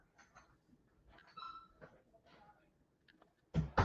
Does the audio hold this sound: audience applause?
no